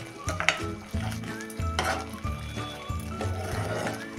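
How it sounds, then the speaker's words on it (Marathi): A thick cashew masala gravy with kitchen king masala being stirred in a pan, the spoon scraping and clanking against the metal in repeated rhythmic strokes over a soft background sizzle. "हे एकसारखं आता हलवून घ्या."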